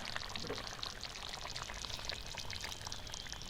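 First-press coconut milk poured into a simmering liver curry in a village kitchen, giving a steady close-up liquid pour and sizzle that runs through the whole stretch without talk.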